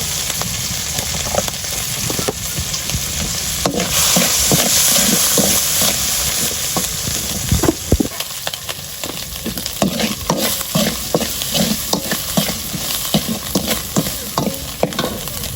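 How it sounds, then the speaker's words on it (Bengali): Icha shrimp fry in a pan with garlic in a village kitchen, a loud continuous sizzle broken by repeated scraping stirs of a spatula, close and steady for the whole stretch without any talk. "ইচা মাছ কষা নিতেছি ভাজা করে নিতেছি"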